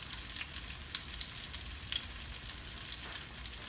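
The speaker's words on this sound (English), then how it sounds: "So we're going to just let it fry" Red snapper pan-frying in hot oil gives a steady, close, dense sizzle with small crackling pops throughout, and no voices.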